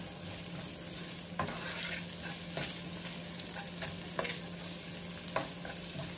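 Half-moon potato patty slices browning in a frying pan for a tomato-broth dish: constant close sizzle of oil with occasional soft scrapes and taps of a utensil, no voices.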